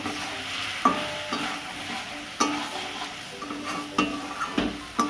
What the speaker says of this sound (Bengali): এবারে আমি ধনে পাতাটা দিয়ে দেব, দিয়ে একটু ভালো করে নেড়ে নেব।